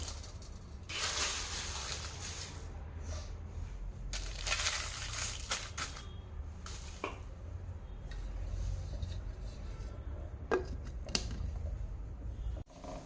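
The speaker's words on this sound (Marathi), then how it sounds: "आता आपण एका मिक्सरच्या भांड्यामध्ये बारीक करून घेणार आहोत" A mixer grinder whirs in several loud bursts as it grinds homemade garam masala spices made with four kinds of chillies, separated by pauses with rattling and clinking of the jar.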